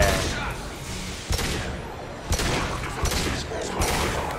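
Gunfire in Mass Effect 2 during a firefight, with several sharp shots and thuds standing out over a busy, noisy game mix.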